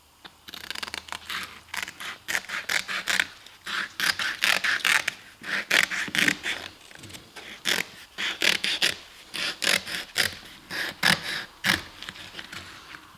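Scissors cut a sheet of sandpaper to size for a Grizzly drum sander in a rapid run of crisp, scraping snips. The close, loud cuts repeat in uneven bursts with short pauses between them.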